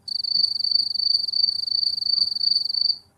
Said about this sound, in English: nothing but crickets.